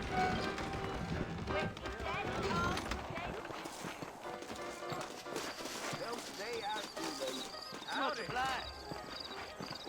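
Horses neigh and trot in the video game Red Dead Redemption amid game music and sound effects, with hooves clopping and a voice speaking over parts of it.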